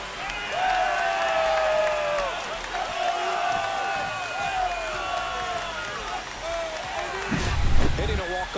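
A home crowd roars and cheers for an extra-innings walk-off home run in the MLB The Show 25 baseball video game, a loud, sustained stadium swell with shouting voices throughout.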